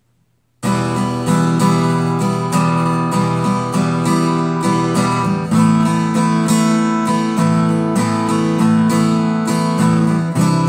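Acoustic guitar strums through four beginner chords of two, three and four fingers, each struck in a steady, repeated rhythm; the playing is loud, close and ringing, with no talking, and sustained chord tones fill the space between strums.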